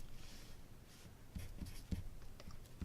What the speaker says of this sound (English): And then we're going to write down 3 colors.